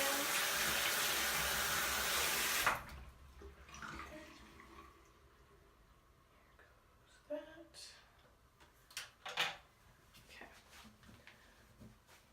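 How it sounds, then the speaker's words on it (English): A pan is rinsed under a running tap, steady loud water flow for the first few seconds, then stopping and giving way to quieter handling clatter and small splashes. "I need to rinse off my pan."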